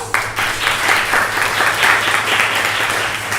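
A room full of people clapping steadily for students at a live bhajan event, loud and sustained, with no talking over it.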